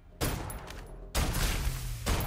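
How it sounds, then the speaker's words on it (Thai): SMG fire in the shooter game Snowbreak: Containment Zone comes as two dense, loud rapid-fire bursts separated by a brief pause. "นี่อย่างในคลิปนะครับจะเป็น SMG ยิงระยะนี้ไม่ได้นะครับเพราะว่ามันจะยิงไม่ค่อยโดน"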